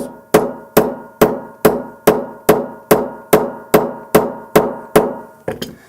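A dozen light, sharp metallic hammer taps on the firing pin of an AR-15 conversion kit in a steady, even rhythm, close up, ending with a couple of quicker, softer knocks.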